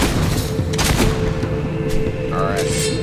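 Gunfire and explosive booms from the video game Fable II, a dense fusillade of shots over steady game music and ambience, with someone talking over the action.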